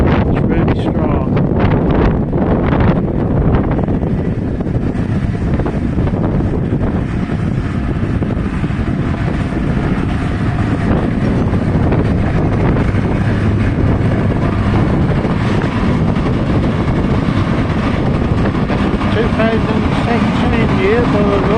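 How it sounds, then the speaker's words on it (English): Strong gusty wind buffets the microphone in open Suffolk farmland where Massey tractors are drilling, ploughing and harrowing, a loud, constant rumbling roar filling the whole stretch with no pauses. "What a sharp wind here, it's really strong."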